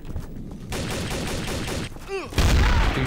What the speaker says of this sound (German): ich knall den einen ab, der will mich abschießen